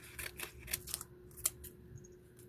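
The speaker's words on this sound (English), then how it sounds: "And this right here, I'm just going to cut because I don't want any of these stickers." Scissors snip through a sticker sheet in a journaling session, a quick series of close, crisp cuts with short pauses, with no talk.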